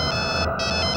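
A telephone rings in a dubbed South Indian film scene, a loud electronic ringtone with repeating tonal bursts and a short gap in the middle.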